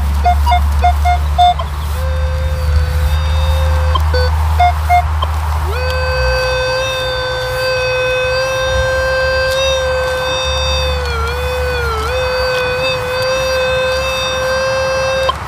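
Target tone from a Minelab Equinox 800 metal detector sweeping a small buried target in a UK field: steady sustained electronic tones with brief repeated beeps, loud and close over low background rumble.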